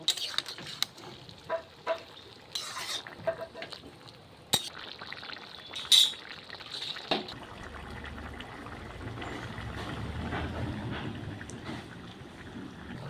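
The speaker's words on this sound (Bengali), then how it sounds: "এখন আমি দিয়ে দিব মোরলা মাছ। দিয়ে ভালো করে নাড়াচাড়া করে মিশিয়ে নিব।" Small morola fish are stirred into bottle gourd greens in a pan, with spaced scraping and clattering strokes early on. These give way to a steadier, softer sizzle.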